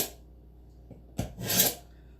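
A coarse grit file rasps in a couple of short, quiet strokes, with a soft scrape followed by a longer, brighter rub near the end.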